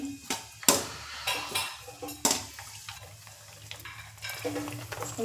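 Pani puri dough puris frying in hot oil in a home kitchen, a soft bubbling sizzle under sharp clinks and scrapes of a utensil against the pan, with several short stirring bursts.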